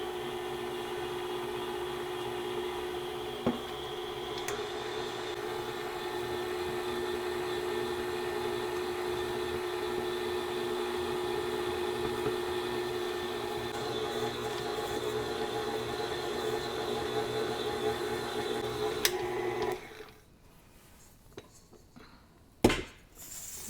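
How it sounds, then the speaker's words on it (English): A stand mixer kneads soft holige dough for a Mangalorean kadlebele holige, a steady close motor whir running for about twenty seconds before shutting off, followed by brief clatter. "I'm going to start the mixer over here."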